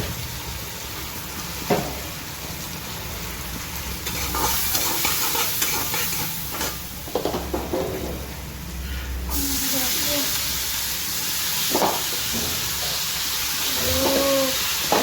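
Food sizzles and is stirred in a wok of leftover oil that was used for frying fish. A steady frying hiss runs throughout, with scraping stir strokes and some quieter spoken voices.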